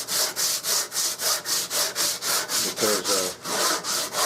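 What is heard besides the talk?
cutting the knob tip off a rifle stock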